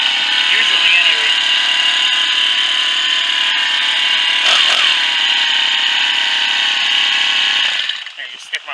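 A Lehr propane-powered grass trimmer engine runs steadily at a loud, high-pitched idle close by for most of the stretch, with a brief throttle blip midway, then cuts out near the end.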